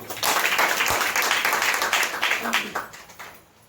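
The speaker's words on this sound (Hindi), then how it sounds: "अब ताली बहुत कम बजाते हैं।" Audience clapping breaks out at a seminar, a burst of loud applause that builds quickly, holds for a few seconds and then tapers off, with some voices mixed in.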